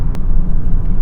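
Low steady exhaust rumble of an APR Stage 3 tuned VW GTI making 350 whp, heard briefly as a continuous deep drone with no distinct revs.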